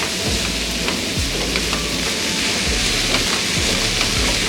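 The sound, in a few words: chilkarve greens frying in oil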